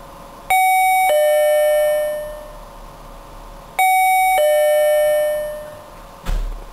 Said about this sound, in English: I'm off to ring the doorbell.